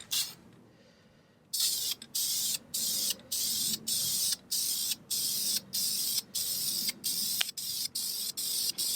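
An airsoft gun gets a thin coat of spray paint in short, evenly spaced hissing bursts after a brief quiet start, the can sounding close and sharp.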